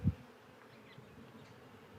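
Honey bees crawl over a hive frame, giving off a faint, low buzzing hum. A brief soft thump sounds at the very start, with no speech.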